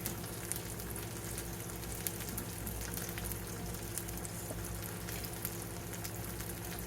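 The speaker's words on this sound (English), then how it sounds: "So we're going to fry these mushrooms in some bacon grease." Mushrooms fry in bacon grease with a quiet, even sizzle and occasional small pops, close by and with no one talking.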